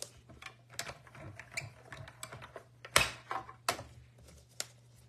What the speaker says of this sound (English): I'm going to go ahead and run that through. Use the mini machine here.